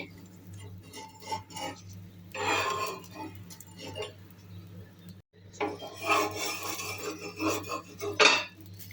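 A spatula scrapes along the edges of a malti dal dosa on a pan, producing rasping strokes in bursts that stop briefly and then return more strongly over a faint low hum.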